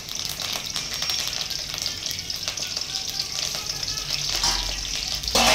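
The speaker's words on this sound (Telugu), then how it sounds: "లైట్గా ఫ్రై అయిపోతే చాలు" Green chillies and curry leaves with fenugreek seeds frying in oil for a fish curry, a steady close hiss and crackle of sizzling that swells slightly near the end.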